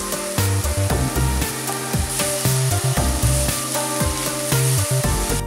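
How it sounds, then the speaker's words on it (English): Pork stir-frying in a tablespoon of cooking oil for larb: a loud, continuous close sizzle with steady frying crackle and the repeated scrape of stirring throughout, no voices. "Add a tablespoon of cooking oil and add the pork. Stir fry until they are fully cooked and golden brown"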